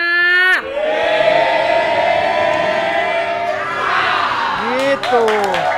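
Studio audience cheering and shouting loudly on cue, a sustained roaring crowd with whoops and yells that swells, dips briefly and rises again near the end.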